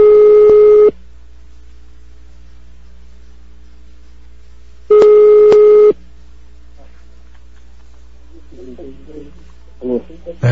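Two long telephone line beeps sound during a phone call, a few seconds apart, with quiet hiss between them; faint voices begin near the end.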